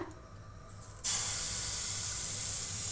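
Pitha batter hits a hot oiled pan and bursts into a sudden loud, steady sizzling hiss that continues unbroken after a brief quiet start.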